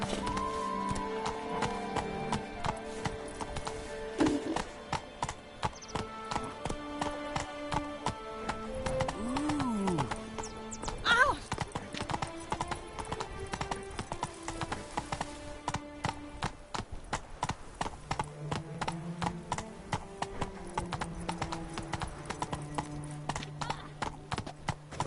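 Roach, a horse in a PS4 video game, clip-clops in rhythmic hoofbeats throughout, with a neigh partway through and music and game sounds playing underneath.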